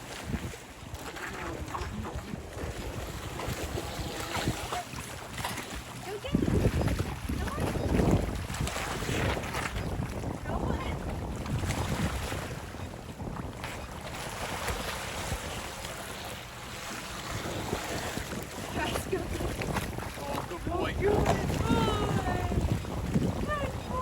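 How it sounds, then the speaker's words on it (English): Small Altair AA102 radio-controlled boat running across a lake, its motor buzzing amid wind buffeting the microphone and water splashing, steady and fairly loud throughout. "That's not bad for a little radio controlled boat."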